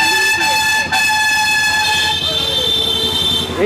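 A loud vehicle horn blares in one long sustained tone close by, with a brief dip partway through, over a rumbling, busy background.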